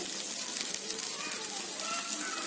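Pesarattu pieces fry with onions and seeds in a pan while being stirred, giving a continuous close sizzle with faint scraping throughout.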